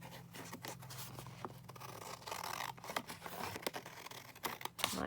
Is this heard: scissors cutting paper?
yes